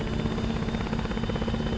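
Helicopter rotors and turbine spooling up in the military game Arma 3, a steady, loud, pulsing whine and thump that fills the short clip alone.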